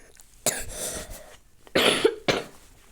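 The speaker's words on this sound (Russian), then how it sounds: "Кашляю." Two bouts of harsh, close coughing, the first a single hacking burst, the second a quick double cough with a throaty edge.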